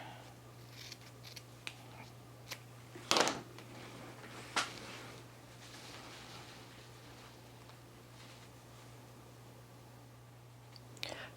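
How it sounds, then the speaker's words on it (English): Scissors snip through sewing elastic for a patchwork skirt, a few quiet, sharp cuts close by, the loudest near the middle, set against a faint steady background hum with no speech. "I'm going to cut my elastic right here."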